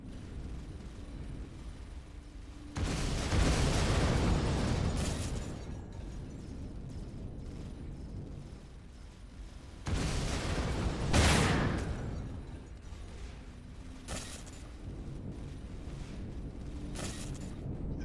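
Turret gunfire in the space game Empyrion comes in several heavy bursts of rumbling, explosive blasts separated by quieter stretches of background hum, loud and fairly close.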